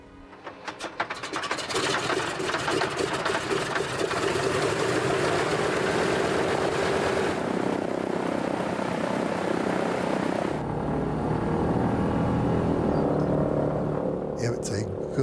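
Engines of a Douglas C-47 propeller transport run up from a start to a steady, loud droning roar that holds for most of the stretch, with a drop in intensity partway through.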